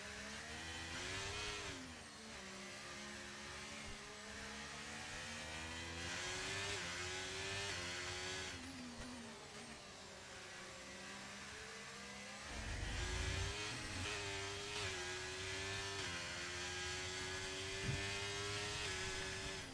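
Race car engines from an Alpine and a Ferrari battling in a Brazil round of a racing game whine and rev continuously, pitch climbing and dropping through gear changes, loud and close with no voices over them.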